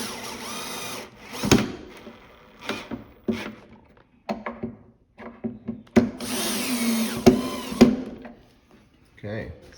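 Power drill driving pocket screws into wood, several short whirring bursts of varying length, fairly close, with pauses and some talk between them.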